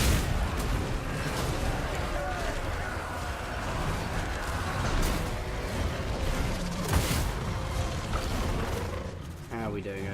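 Shooting units in the Total War: Warhammer 2 battle keep up a dense, continuous roar of massed gunfire and booming cannon-like blasts over a busy battlefield din, loud throughout with occasional sharper reports.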